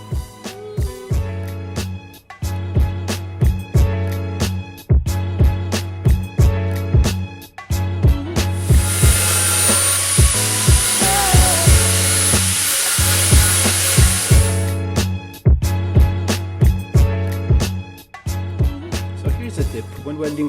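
Tack welding a repair panel onto a car trunk lid produces a series of short crackling bursts in an uneven rhythm, broken by one sustained hissing stretch of several seconds, loud and close, with no voices.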